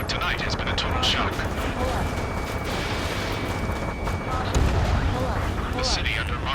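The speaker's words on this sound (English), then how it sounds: "Gunfire and the roar of jets echoing through the streets." Dense, continuous battle noise from the video game Ace Combat 7: rumbling gunfire and booms layered over a droning jet roar, loud and unbroken throughout.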